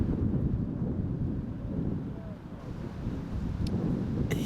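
Gusting wind buffets the microphone on an outdoor disc golf course during a Las Vegas tournament round, a steady low roar that swells and eases throughout, with faint voices underneath.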